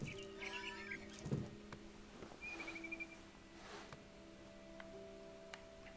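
A barn swallow chirps in the video game What Remains of Edith Finch, giving a few short, bright tweets early on over a quiet game ambience, with faint ticking and soft tones continuing afterward.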